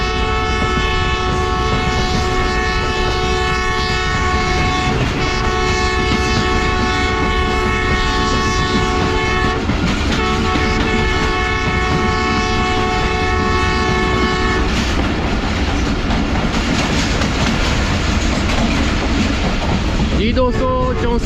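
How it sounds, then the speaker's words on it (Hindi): The Faiz Ahmad Faiz passenger train, hauled by locomotive 6421 between Lahore and Narowal, passes through Badami Bagh station with a loud, continuous rumble, clattering wheels and a long sustained horn blast, close by. "ये थी लाहौर और नारोवाल के दरमियान चलने वाली फैज़ अहमद फैज़ पैसेंजर"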